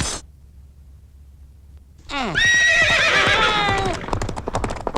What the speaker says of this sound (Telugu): గుర్రం మీద వచ్చినట్టు కొంత డెక్కల్ సౌండ్ వినబడుతుంది